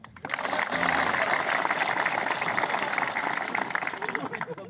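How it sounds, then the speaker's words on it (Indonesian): Audience clapping at a military gathering, a dense steady wash of many hands lasting several seconds, loud and close, with a brief voice near the start. "Nah, tepuk tangan dulu."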